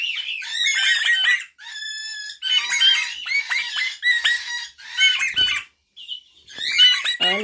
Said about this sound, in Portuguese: Tratando os filhotinhos de Rosella.